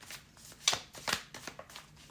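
Tarot cards are shuffled by hand, giving a quiet series of crisp riffling flicks and soft slaps in an uneven rhythm, close up with no voices.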